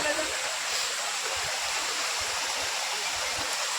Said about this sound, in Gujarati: પાણી આવે